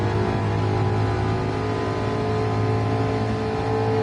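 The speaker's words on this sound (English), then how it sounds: "And I think revving this engine out is actually maybe better." A race car engine in a racing video game drones at high revs, a steady loud tonal whine that holds evenly throughout with no talking.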